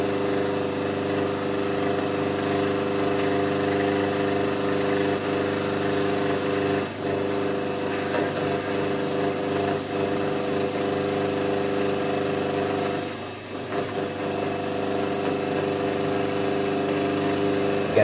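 A milling machine's X-axis power feed motor runs continuously, a steady tonal hum that stays even for the whole stretch, broken only by a brief clunk near the end.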